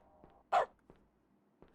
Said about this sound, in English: Dog sound.